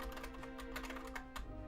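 Rapid typing on a computer keyboard, a quiet, close stream of irregular key clicks with brief bursts and short pauses, no voices.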